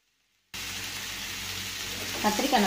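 Brinjal frying in masala in a pan for a potato and brinjal gravy, a sudden, steady close sizzle that starts abruptly and continues, with brief stirring clatter near the end.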